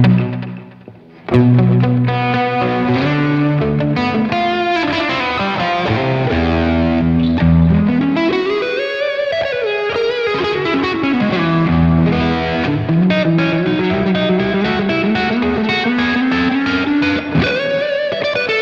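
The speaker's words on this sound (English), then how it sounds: "that's The Reflecting Pool by Fender. Just a sweet reverb and digital delay" An electric guitar played through a Fender Reflecting Pool reverb and digital delay pedal, with sustained notes and chords swelling and sliding under long washy echoes, loud and alone without talk.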